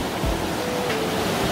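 Continuous rushing water pouring and splashing over a rock waterfall in Deokpung Valley canyon, South Korea, a close, steady roar with faint low thumps underneath and no speech.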